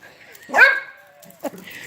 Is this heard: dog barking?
yes